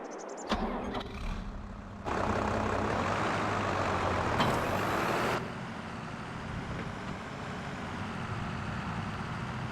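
A tractor engine in Farming Simulator 22 starts up and settles into a loud, steady diesel rumble with a brief hiss partway through, heard close and without talk.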